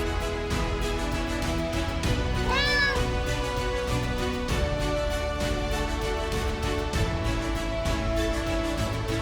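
A small kitten stuck up a tree gives a single short meow partway through, heard over a loud, steady musical background that runs the whole time.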